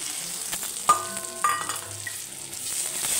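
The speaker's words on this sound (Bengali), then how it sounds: "পেঁয়াজ আর টমেটোটা ভাজা গেছে, দিয়ে দেবো আদা বাটা" Ginger paste is added to frying onion and tomato while a sizzle hisses softly in the background, broken by a couple of sharp metallic clinks and light stirring taps. No one speaks.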